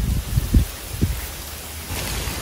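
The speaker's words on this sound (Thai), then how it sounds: "ฝนก็ตกมาแล้วนะคะ" Rain falls outdoors in a garden during a flower harvest, a steady hiss of drops on foliage and surfaces with a few louder low thumps of nearby handling, with no voices.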